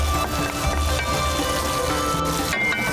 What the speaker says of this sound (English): I am frying the mutton over here